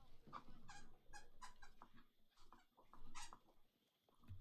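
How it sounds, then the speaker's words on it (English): A pet dog plays with a squeaky toy nearby, giving a quick, faint run of high rubbery squeaks in irregular bursts with short pauses between them. "It's my dog playing with a squeaky toy, so I cannot quite help it."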